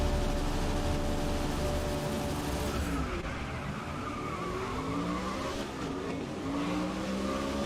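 Race car engine in Codemasters' GRID on a tight street circuit, roaring steadily with shifting pitch as the car accelerates and shifts gears, with tire squeal and skidding noises mixed in, loud and continuous throughout.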